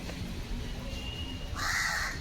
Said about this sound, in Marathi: आलाय कावळा खायला